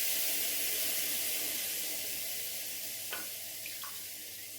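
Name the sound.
pouring a cup of water into pan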